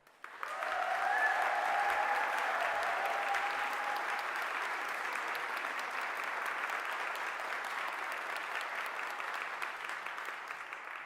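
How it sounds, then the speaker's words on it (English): An audience applauding graduates at a Fife College graduation ceremony, a dense sustained wash of many hands clapping that swells quickly and then holds steady, fading only slightly toward the end. "can we get a big round of applause for all of our graduates?"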